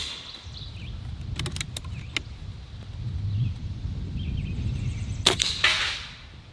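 A Barra 1100z Gen II airgun fires pellets at targets downrange. There are a few sharp, brief cracks, one cluster early and a louder one near the end, over faint outdoor background noise.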